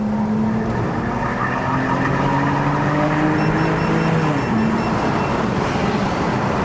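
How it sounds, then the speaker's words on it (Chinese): A BMW E90 325i Sport LCI with an inline-six engine drives uphill on a mountain road in Malaysia, a steady loud engine drone with gently rising and falling pitch, heard from inside the car with no talk. "我那种 inline six 声音，虽然不用拉高噪，我都听到那种沉那种声音，非常的好听"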